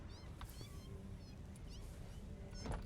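Cat meows in the factory-building video game Satisfactory, a few faint rising cries scattered over a quiet background hum, distant and soft.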